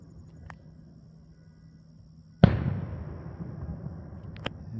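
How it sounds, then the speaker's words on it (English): A single sharp firework burst during the Northland Mardi Gras Venetian Parade display in Ladysmith, Wisconsin, a sudden outdoor bang followed by a long rumbling decay and a faint crackle, with a few small pops before and after. "The Venetian Parade and fireworks display in progress."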